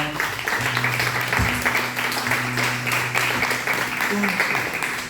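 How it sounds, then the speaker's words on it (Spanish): A church congregation applauds during a service, a steady wash of clapping held at moderate level over a low sustained tone from instruments or amplification for about five seconds. "Dale un fuerte aplauso al Señor."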